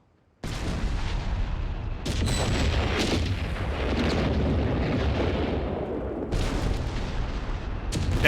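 Heavy artillery fire in Company of Heroes 3, deep booming blasts with sharp onsets around two seconds and six seconds, followed by long rumbling roar, loud and close with no talk.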